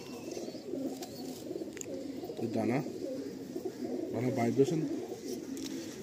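Andhra high-flying pigeons coo softly while being handled for inspection, with a couple of low throaty coos rising near the mic amid faint background noise and someone talking over them.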